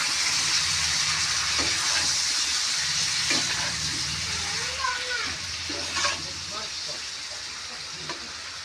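Vegetables go into a pan where dried fish is frying, giving a steady loud sizzle and hiss with a few stirring clatters, while a voice talks faintly in the background.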